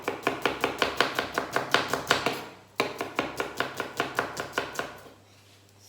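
Knife slicing an onion into thin strips on a cutting board for Kässpätzle, a quick steady run of crisp chops, pausing briefly midway and then resuming, close and clear with no talking.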